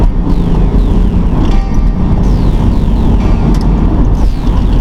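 A Ford Mustang engine roars steadily at high revs, flat out in third gear under heavy wind noise, with rising whine sweeps as it accelerates hard.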